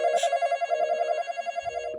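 A telephone in the Roblox game The Intruder rings with a steady, rapidly pulsing electronic bell tone, loud and continuous for two seconds with nothing else over it.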